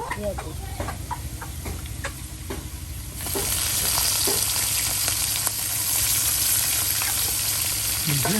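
Shrimp frying with onions in oil, a loud, steady close sizzle that jumps up sharply partway through as the shrimp go in, with stirring and a rooster clucking faintly in the background.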